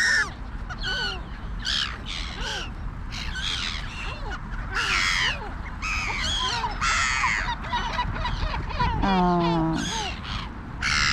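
A flock of gulls squawks and calls repeatedly, harsh overlapping cries close by, with a brief voice partway through.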